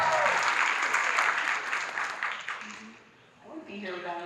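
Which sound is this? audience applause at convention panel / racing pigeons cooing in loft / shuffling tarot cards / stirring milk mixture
audience applause at convention panel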